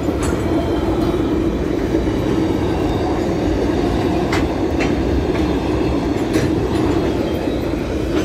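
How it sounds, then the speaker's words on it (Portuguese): A train rolls through the town centre of Rolândia, Paraná, at about 50 km/h, a steady loud rumble of wheels and carriages with faint clicks, filling the whole stretch without any voices. "Trem a 50 km por hora, no centro da cidade de Rolândia."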